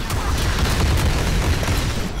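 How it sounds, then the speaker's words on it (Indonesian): The H/PJ-45B tier 3 anti-aircraft naval cannon firing in the Modern Warships game, a loud, dense and continuous barrage of booming blasts that runs without pause. "ada meriam uh, tier 3 yang bisa nembakin pesawat-pesawat musuh"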